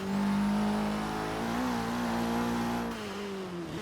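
Ford Sierra Cosworth racing in Forza Horizon 3, its engine droning loud and steady at high revs, pitch sliding up and down through gear changes, then easing off near the end.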